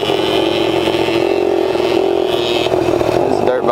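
A 125 dirt bike and a Kawasaki KX60 engine drone steadily at high revs, close and loud with a buzzing, rattly tone, while a voice talks briefly over it.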